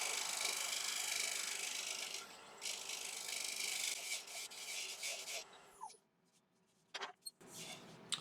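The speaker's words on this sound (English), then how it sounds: "I'm just grabbing a little round nose scraper now just to refine this little curve here." A round nose scraper rasps steadily against spinning oak on a lathe, a continuous hissing scrape that breaks off into quieter pauses near the end.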